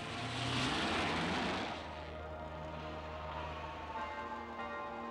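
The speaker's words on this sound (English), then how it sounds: "Enemy planes overhead." Enemy planes flying overhead at a fortified base in the animated series Voltron Vehicle Force: a droning engine roar that swells loudest in the first two seconds, then settles into a steadier, quieter hum, with no voices.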